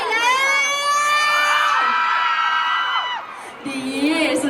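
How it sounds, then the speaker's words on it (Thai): A crowd of fans at a jeans store event in a Khon Kaen shopping mall screams and cheers in sustained high shrieks, loud and continuous, easing off briefly before a fresh burst at the end. "ขอเสียงกรี๊ด"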